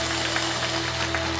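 A church congregation at a prayer meeting applauding, a steady, dense wash of clapping held beneath sustained keyboard tones with no pauses.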